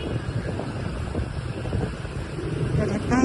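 Strong wind roars and buffets the microphone in a continuous rumble, loud and close, with no clear voices.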